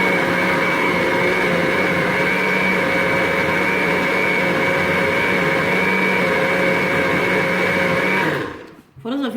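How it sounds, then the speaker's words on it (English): A blender runs steadily at full speed, blending a health drink with a loud, even motor whine and stable tones, then cuts off near the end. "I decided to use my blender today"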